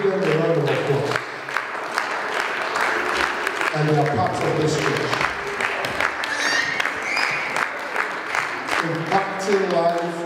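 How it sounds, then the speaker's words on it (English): Applause from a church congregation keeps up as a crowd claps throughout, while someone speaks over it on a microphone. "Can you give them a round of applause?"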